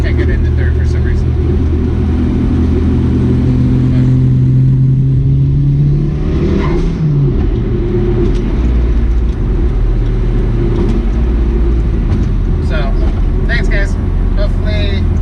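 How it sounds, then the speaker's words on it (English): A Mitsubishi Galant VR-4 engine revs steadily at a Cars and Coffee meet in Tucson, its pitch climbing toward red line and then dropping back. The car cannot get into third gear. Its low, loud drone runs throughout with voices over it. "I'm going to take it to red line."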